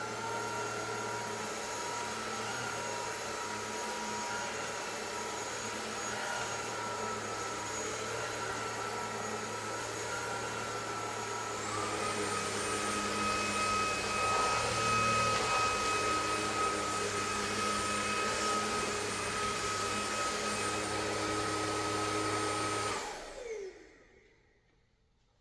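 A cordless vacuum cleaner runs on a rug with a steady motor whine, stepping up in pitch and loudness about halfway as its speed increases, then cutting off and spinning down at the end, with no talk over it.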